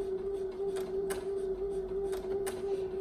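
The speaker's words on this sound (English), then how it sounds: "if I start sewing, it takes a stitch and then it feeds without stitching" Brother BQ1350 sewing and quilting machine running on an elongated basting stitch: a steady motor hum under a sparse, rhythmic ticking of needle strikes, roughly two or three clicks a second, close and moderately quiet.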